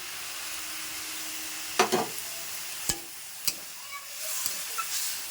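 Water splashed onto greens in a hot pan sets off a soft hiss, and sharp scrapes and clinks of stirring land at intervals over the low sizzle.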